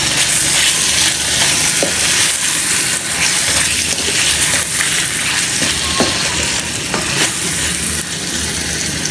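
Turmeric, salt and red chillies frying in a pan for aloo gosht give a loud, constant sizzle with stirring scrapes and occasional clinks throughout, no talking.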